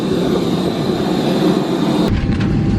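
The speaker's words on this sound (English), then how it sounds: "Here's our plane. It's a Rossiya plane." A Rossiya airliner's engines roar in a steady, loud broadband drone, then the sound shifts abruptly to a lighter rushing hiss near the end.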